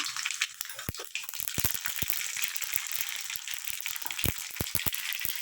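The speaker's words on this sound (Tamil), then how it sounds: "அதில் பார்த்திங்கன்னா எண்ணெயும் பார்த்திங்கன்னா தாராளமாக விட்டாச்சு இப்போ இதில் பார்த்திங்கன்னா நம்ம கடுகு போட்டுக்கலாம் தாளிச்சிக்கலாம்" Mustard seeds crackle and pop in hot oil in a kadai, a dense steady sizzle broken by many sharp, irregular snaps close by; no talking.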